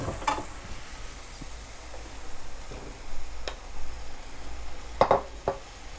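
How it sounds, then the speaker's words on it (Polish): Pork tenderloins returned to a pan of browned onions and mushrooms that have released their juice, a soft steady sizzle broken by a few sharp clinks of a utensil on the pan. "teraz wkładamy nasze polędwiczki z powrotem na patelnię"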